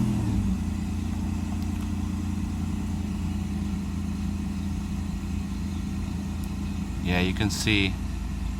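Mercedes 600SL engine running with an Egas throttle module fitted, a steady close mechanical drone throughout with a brief rev near the end, while someone talks over it.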